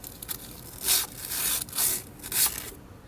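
Sandpaper rubbing inside a Magic Mill wheat grinder to clear out leftover wheat berries, three soft raspy scraping strokes in a steady back-and-forth rhythm, close and fairly quiet.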